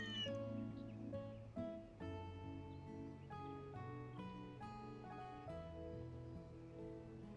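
A cat meows repeatedly in the video game Trails Through Daybreak, a string of clear, fairly faint mews over soft background music.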